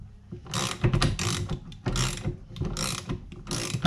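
A hand ratchet tightens bolts on an Aussie Assault build, giving bursts of rapid metallic clicking in several close, loud runs separated by short pauses, with no voices.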